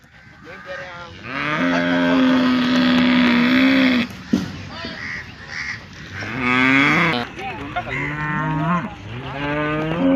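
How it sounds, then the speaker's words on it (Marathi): Cows at a cattle market in Loni low loudly in several long, drawn-out moos, close by, with a busy crowd murmuring underneath. "तुम्ही पाहू शकता एकदम चांगल्या प्रतीच्या गाया"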